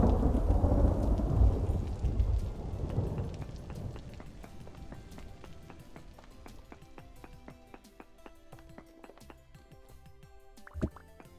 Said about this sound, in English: it's storming in Vintage Story